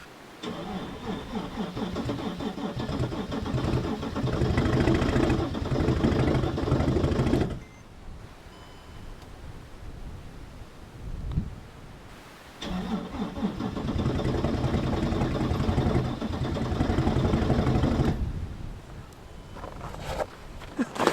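A turbo diesel Mercedes in extreme cold, around -15 degrees, cranks hard in two long rhythmic starter runs of several seconds each, separated by a quieter gap. It fails to catch and sounds close and loud.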